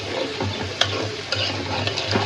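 Prawns and spice paste fry in a pan with a steady close sizzle, punctuated by a few scraping stirs and small pops, over a low steady hum and no talking.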